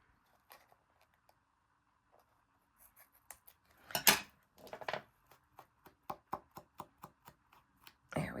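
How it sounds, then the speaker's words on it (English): Scissors snip along the edge of a paint chip tag in a run of short, crisp cuts, quiet and close, with small handling sounds between them. "And I will cut that edge."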